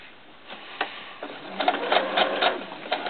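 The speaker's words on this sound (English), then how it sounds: "I'm going to turn this around and do some more stitching" A sewing machine stitches fabric for a handmade fabric rose, running in a few short bursts of rapid mechanical whirring with brief pauses between them, close and moderately loud with no talking.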